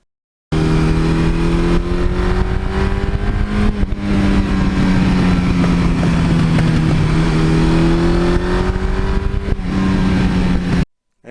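Engine of a 1982 Suzuki GS1100E motorcycle running and revving steadily and loudly, a deep continuous drone with gently rising and falling pitch, close up for about ten seconds with no talk.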